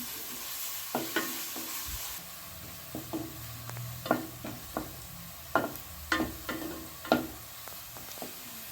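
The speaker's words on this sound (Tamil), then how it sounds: "நம்ம கோல்டு கலர் வர வரையும் கொஞ்சம் நல்லா வதக்கிக்கிடுவோம்" Onions sautéing in oil until golden, with a quiet steady sizzle and a regular series of sharp spatula scrapes and taps against the pan.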